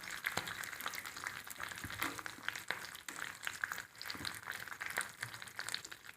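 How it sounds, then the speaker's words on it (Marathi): Peanuts fry in hot tempering oil in a kadhai that already holds spluttered mustard seeds and curry leaves, giving a steady, moderately loud sizzle scattered with sharp crackles and pops throughout. "आता आपण शेंगदाणे टाकू।"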